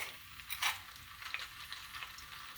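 Masala paste and fresh curry leaves hitting hot cooking oil for a fish curry, giving a close, steady crackling sizzle with a brighter spit-and-pop flare near the start and smaller bursts after.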